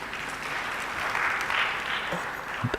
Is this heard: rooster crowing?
no